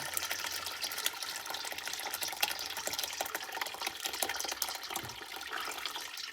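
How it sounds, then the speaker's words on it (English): Hot ricotta mixture pours through cheesecloth into a colander, a steady splashing, trickling rush of liquid that runs continuously at close range with no talking. "we're going to strain our mixture into the cheesecloth and the colander."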